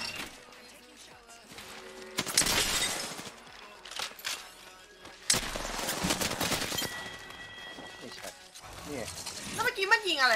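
Bursts of gunfire in a multiplayer shooter video game, sharp crackling volleys and rapid shots in two dense clusters with quieter pops between, under excited talking among players.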